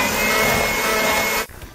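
An electric mixer beats cookie dough made with flour, baking soda and baking powder for a fruit pizza crust, giving a loud, steady whirring drone that cuts off abruptly near the end.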